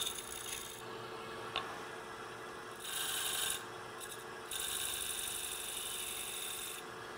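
A turning tool rubs and scrapes against a spinning wooden candlestick on a lathe, rounding off its outer bead, a steady rasping grind close up that swells and eases in a few long passes without talk.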